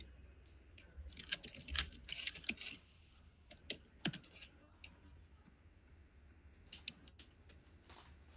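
Typing on a computer keyboard, with irregular bursts of close key clicks separated by quiet pauses, heard on its own with no speech.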